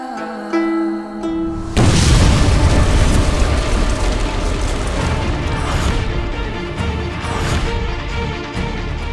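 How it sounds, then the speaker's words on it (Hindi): A sudden, loud explosion blast cuts in after a quiet tonal passage, followed by a sustained heavy rumbling roar that slowly eases. "ये कैसा धमाका था?"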